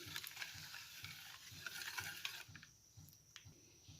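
Eggs and cooking oil are whisked together for marble cake batter, a steady rhythmic scraping of a utensil against a bowl, close and moderately loud with no talking.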